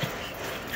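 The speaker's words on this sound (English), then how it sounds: "Look at this little bitty Yorkie." A tiny Yorkie weighing about 3.5 pounds gives a brief, soft whimper or yip, close by and over a quiet room.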